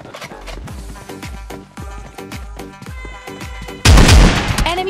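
Close-range shotgun blasts in PUBG Mobile Lite, a steady run of sharp repeated booms giving way to one louder, denser burst near the end, with no talk over them.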